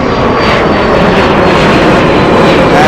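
Boeing 747 lining up on runway 33 at Anchorage airport, a loud, continuous roar of jet engines, close and steady with a broad rushing texture and no voices.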